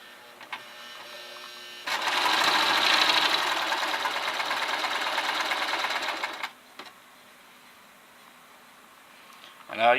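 A sewing machine stitches an infinity scarf in one steady, fast whirring run of a few seconds, loud and close, with quieter handling before and after.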